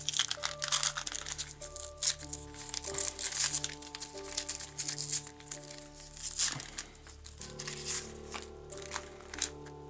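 Gift wrapping paper crinkles and tears as a present is unwrapped, a continuous close rustling with sharper crunches and rips over a steady background hum.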